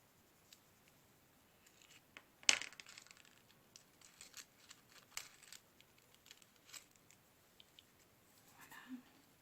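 Scissors cutting Christmas card paper, heard as faint, sparse snips and crisp paper rustles close by, with one sharper clack along the way.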